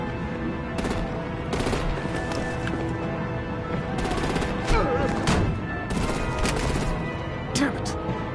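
Gunfire and artillery bursts in a Batman video game, repeated sharp shots in irregular clusters over a busy action soundtrack with vehicles and effects, loud and close, with background voices.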